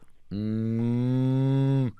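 A person imitates a cow mooing with one long, steady, loud moo lasting nearly two seconds, rich in low harmonics, with no other sounds around it.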